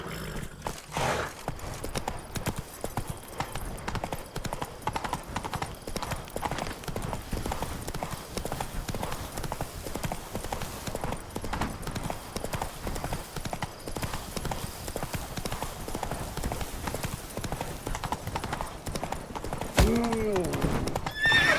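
Roach, a horse in the video game The Witcher 3, gallops with steady rhythmic hoofbeats, and neighs and whinnies come through now and then. A voice speaks over the running.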